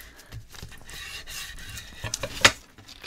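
Glued paper in a handmade photo album is burnished by hand, producing soft, irregular rubbing and scraping strokes that build to a sharper scrape near the end, quiet and close with no speech.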